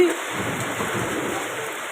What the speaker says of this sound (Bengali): বিকেল সাড়ে পাঁচটায় বৃষ্টির কি হাল নেবে পড়েছে বৃষ্টি